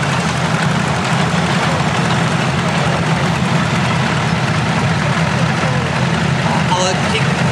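A steady low engine rumble from a vintage Minneapolis Moline American tractor idling at a tractor parade in Wanaka, loud and constant, with people talking over it.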